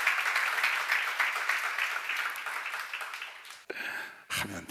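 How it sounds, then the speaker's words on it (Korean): Seminar audience clapping at a church lecture, a moderate wash of applause that gradually thins and fades, followed by a few brief scattered bursts of sound. "박수."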